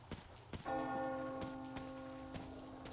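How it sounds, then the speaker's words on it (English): In the Metro Exodus video game, a single large bell is struck with a clear metallic clang that rings on and fades slowly, while faint scattered clicks and knocks sound behind it. "You hear that bell?"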